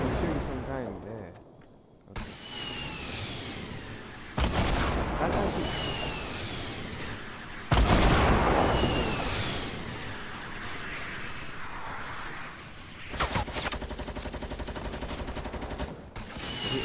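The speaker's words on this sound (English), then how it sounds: "I'm shooting some guy in there." Video game gunfire, repeated bursts of rapid shots and automatic fire in loud dense stretches broken by short gaps, with a player talking over it.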